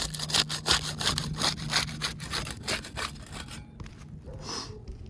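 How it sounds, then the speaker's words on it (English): A putty knife works under roof shingles to break their seal, making rapid, rhythmic scraping strokes close up for several seconds before the scraping stops and only faint rustling remains. "We use the putty knife to unseal the top shingle here."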